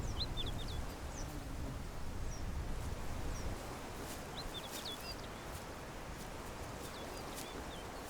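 Migratory birds call across the summer tundra with faint, scattered high chirps and twitters, some far off and some nearer, over a steady wind-like rustle and no voices.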